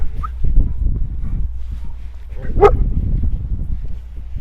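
A man's dog on a walk gives a single sharp bark close by, against a steady murmur of outdoor background noise.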